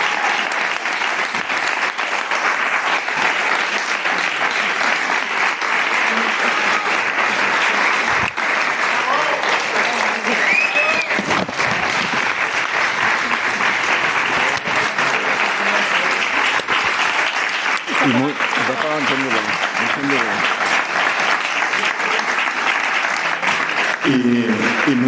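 A conference audience applauds in a long, loud, sustained ovation that fills the room, with a few voices faintly audible beneath the clapping.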